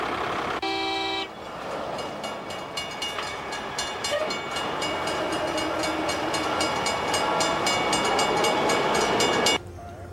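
Track repair trucks that run on rails roll through a rail yard with a train roundhouse, giving a steady clattering, rumbling rail noise with repeated horn-like toots across most of the stretch before it cuts off abruptly.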